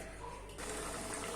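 Tamarind water pours into a pot in a soft, steady gush that swells slightly partway through, faint and close.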